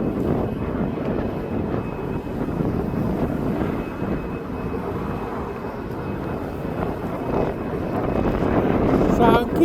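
An Atlas Air cargo jet departs East Midlands Airport with a steady, distant broadband roar that swells louder toward the end, with wind buffeting the microphone.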